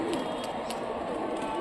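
Pigeons bred for flying tricks coo softly in a steady, continuous murmur from close by, with faint higher chirps over it and no speech.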